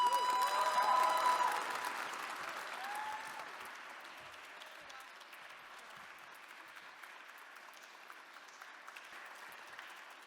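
An audience at a social innovator showcase applauds, dense clapping that starts full and close, then gradually thins and fades over about ten seconds while a brief voice rings out near the start.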